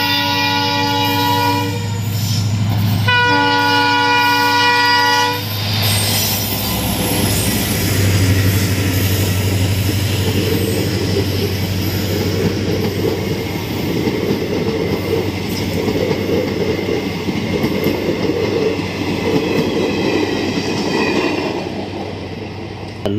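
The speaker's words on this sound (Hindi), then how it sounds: "यह है ट्रेन गाड़ी, कॉम ट्रेन" A train passes with two long, loud horn blasts at the start, followed by a sustained rumbling roar and clattering wheels that carry on steadily, heard alone without talk.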